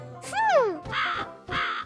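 A cartoonish bird call swoops up and down, followed by two harsh, loud caws in quick succession.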